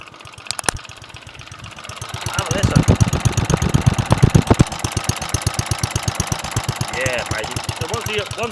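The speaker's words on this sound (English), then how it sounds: "Now listen to that. Listen to that exhaust." Vintage cylinder lawn mower engine idling with a rapid, even exhaust thump that swells louder midway and then settles, close-up, with someone speaking over it briefly.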